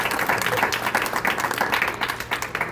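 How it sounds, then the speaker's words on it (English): Students at a National Honor Society ceremony applaud their parents and family members, a steady, dense crowd applause of many hands filling the room without pause. "I'd like the students at this time to give a round of applause to your parents"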